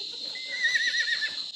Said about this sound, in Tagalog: Yung anak ng kabayo, hinahanap niya yung nanay niya.